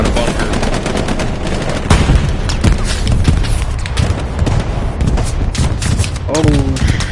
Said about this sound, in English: Enemy bombing run inside the bunker